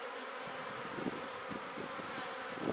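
Honeybees at an opened hive during an inspection, just after a colony split, give off a steady, dense buzzing hum close by, with no voices.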